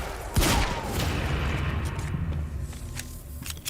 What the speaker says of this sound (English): I like the heavy pistol, in all honesty.